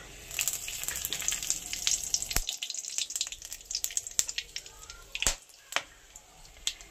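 Whole cumin, bay leaf and whole garam masala sizzle and crackle in hot oil, with sharp pops and spits over a steady frying hiss, close and fairly quiet.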